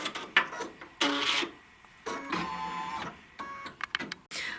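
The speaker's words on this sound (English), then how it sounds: "here's where it's stitched the placement line" An embroidery machine stitches a placement line on white fabric, giving short separate bursts of fast mechanical chatter and clicking with brief quiet gaps between them.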